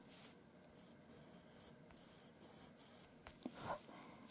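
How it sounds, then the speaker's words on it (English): A pencil scratches steadily across black Canson Mi-Teintes velvet paper, soft repeated strokes of layered drawing close to the microphone, pressing harder in places, with no voices. "There I try now to press more and overdraw the layers that I have drawn before."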